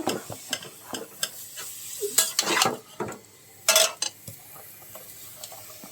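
Ridge gourd is tipped into a pan of cooked spices and stirred with a metal spatula, giving close scraping strokes and clinks against the pan over a light, intermittent sizzle, with quiet pauses between the stirs.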